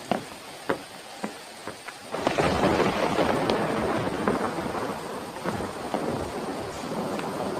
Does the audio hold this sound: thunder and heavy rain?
yes